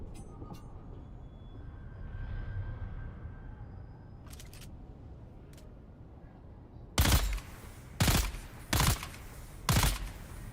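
Gunfire in the video game Dune Awakening: after a quiet stretch of low ambient rumble and a couple of faint clicks, four loud, sharp shots ring out at roughly one-second intervals near the end, with no talk.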